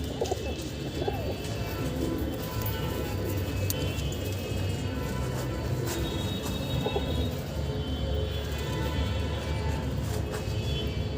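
Ringed pigeons coo repeatedly at close range, soft throaty calls overlapping amid a busy loft with steady background noise and occasional rustles.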